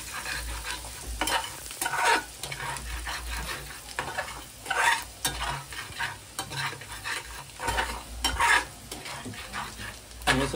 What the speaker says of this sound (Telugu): వేసాం దీంట్లో చాప్డ్ గార్లిక్, వెల్లుల్లి చిన్న చిన్న ముక్కలు చేసిన వెల్లుల్లి వేసాం.